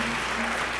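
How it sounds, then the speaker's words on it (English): An audience applauds a swing orchestra at a mansion venue, a dense, steady wash of clapping that fills the moment, with a faint tone underneath. "How about a big round of applause for Alan Gressing and the Swing Shift Orchestra?"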